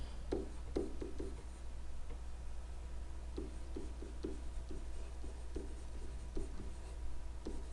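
Pen writing on paper, quiet and close: short scratchy strokes in small clusters with brief pauses between them over a steady low hum.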